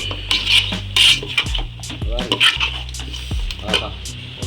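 A pot of broiler chicken curry being stirred with salt, a spoon scraping and clinking against the metal pot in irregular strokes, close and fairly loud, with bursts of speech between the stirs.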